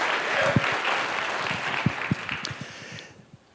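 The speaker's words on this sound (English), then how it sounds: "give yourselves a round of applause" A crowd at a live stage show claps in a steady round that thins into a few scattered, heavier claps and trails off into quiet.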